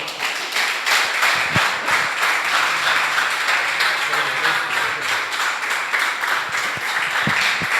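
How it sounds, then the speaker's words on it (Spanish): Congregation applauding during a church service, a sustained, dense clapping wash with occasional sharper taps, fairly loud and close. "Dale un aplauso al Señor"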